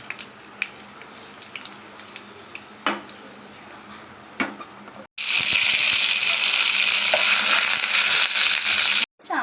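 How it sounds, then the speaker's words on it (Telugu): Chana dal and two dried red chillies fry in oil. Sparse clicks and light taps come first, then a loud, dense sizzle bursts out for about four seconds and cuts off sharply. "కొంచెం శనగపప్పు ఇలా ఫ్రై అవుతున్నప్పుడు దీంట్లో ఒక 2 ఎండుమిర్చి అండి ఇలా చుంచి వేసేసుకోవాలి"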